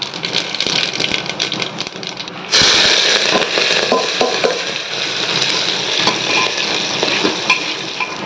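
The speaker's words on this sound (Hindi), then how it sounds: "ये लगा दिया मैंने तड़का, इसमें डाल दिया लहसुन मिर्ची और कड़ी पत्ता" Hot oil sizzles steadily, then jumps to a loud, crackling hiss as garlic, chilli and curry leaves hit the pan for tempering, frying continuously up close.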